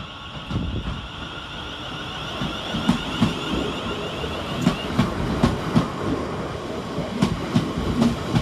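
A Class 350 electric passenger train departs Walsall station at close range, its steady electric whine under rhythmic clicks and clacks of wheels over rail joints.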